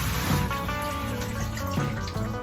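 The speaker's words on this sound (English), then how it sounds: "Next, I'm going to be testing the shower, both hot and cold." Water running steadily from a nearby shower in a Solis 59P camper, hot and cold, a continuous splashing hiss with a low gurgling undertone.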